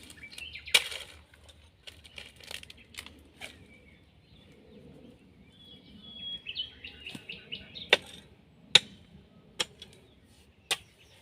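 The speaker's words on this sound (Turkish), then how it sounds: "Kuşlar ne kadar güzel ötüyor." Birds sing in a garden with scattered short chirps and a few brief warbling phrases, spaced irregularly against a quiet background.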